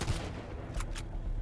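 Gunfire in the survival game Sunkenland, a short burst of sharp shots with two distinct cracks close together near the end, loud and close, no talk.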